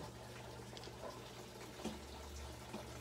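Drinking water pours or runs steadily at a low, even level, with a few faint splashes and drips and no talking.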